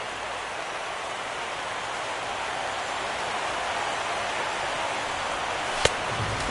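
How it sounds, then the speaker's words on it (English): Steady rain falls on a baseball field in the video game MLB The Show 17. It makes a constant, even hiss of drops throughout, broken once near the end by a single sharp click. "The rain, as we've mentioned, coming down fairly steadily here at game time."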